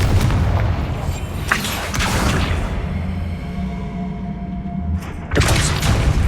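Blasting-curse explosions from Hogwarts Legacy sound as several loud booms and whooshing bursts over steady game ambience, with the sharpest impacts near the start and end.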